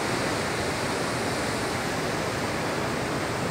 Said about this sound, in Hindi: काफ़ी बड़ा ये झरना है